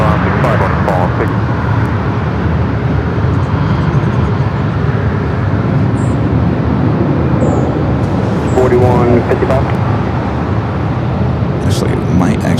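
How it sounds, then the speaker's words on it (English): A Cathay Pacific Boeing 777-300ER, just arrived from Hong Kong, taxis toward the north side gates at Los Angeles airport, a loud continuous engine rumble and hiss with someone talking over it. "Got that Catholic Pacific 777-300ER coming from Hong Kong on its way here to the north side for arrival"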